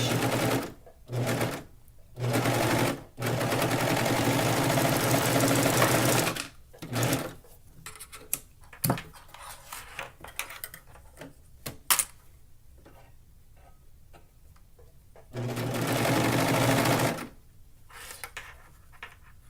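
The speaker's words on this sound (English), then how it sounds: "my S21 is set up like a serger today, and I'm sewing the side seams at 3/8 of an inch." An S21 sewing machine set up as a serger stitches the side seams of a tankini at 3/8 inch, running in several loud whirring bursts of steady stitching separated by pauses and small handling clicks.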